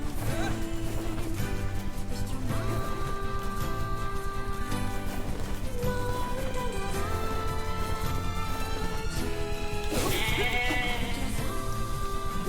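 Sheep bleat repeatedly in the video game NieR Replicant, sharp animal cries rising over a steady, loud bed of game music with a brief smash near the end.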